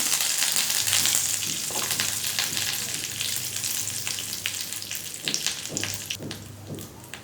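Chillies and curry leaves sauté in hot oil for coconut kaara chutney, a steady bright sizzle with occasional stirring scrapes and pops.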